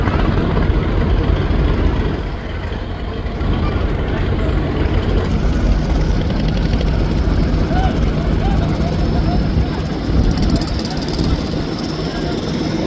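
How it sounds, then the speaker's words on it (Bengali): Onboard the Dolpakhi 10 passenger launch as it leaves Sadarghat, Dhaka, bound for Ilisha, Bhola: a loud, steady engine drone fills the scene throughout, with faint background voices. "সদরঘাট থেকে বের হয়ে আসলো মাত্র লঞ্চটি, আর আমি রয়েছি দোলপাখি 10 লঞ্চে"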